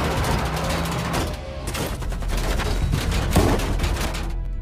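Rapid bursts of gunfire from a film shootout crackle and pop in dense volleys, loud and close, continuing throughout without speech.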